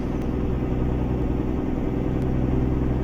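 Steady low diesel rumble of a Mack B62 truck engine in American Truck Simulator, a loud continuous drone holding one pitch throughout with no speech over it.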